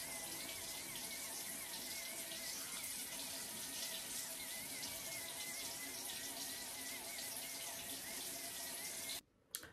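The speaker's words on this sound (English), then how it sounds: "I wash my face for a good 5 minutes." Tap water runs steadily into a sink during face washing with a lather, a continuous close splashing hiss that stops abruptly near the end, with no talking.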